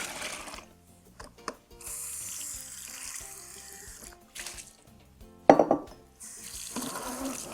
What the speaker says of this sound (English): I'm going to go ahead and drain these and rinse them